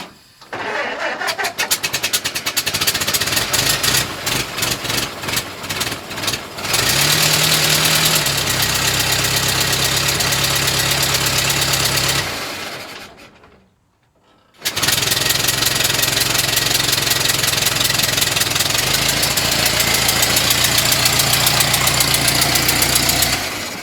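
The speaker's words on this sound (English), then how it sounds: "this car seems to hot start pretty good" A hot car engine cranks and fires, settles into a steady idle, cuts out briefly and restarts, then keeps idling loud and close with a slightly knocking mechanical tone.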